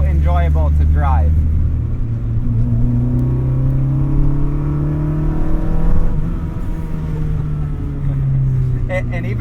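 A K24-swapped Mazda Miata on a back road pulls hard under throttle from inside the cabin. The close, steady engine drone rises in pitch as it accelerates, with a brief voice near the start.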